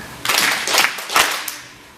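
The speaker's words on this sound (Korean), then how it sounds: "박수 한번 3번 쳐줘보실래요?" An audience at a theatre-healing talk claps three times in unison. Three crisp, loud bursts come in a quick, even rhythm, then fade into a quiet room.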